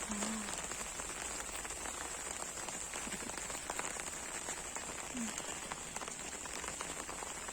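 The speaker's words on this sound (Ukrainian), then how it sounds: "Дощ." Soft, steady rain patters on a garden, a dense hiss of drops continuing throughout without pause.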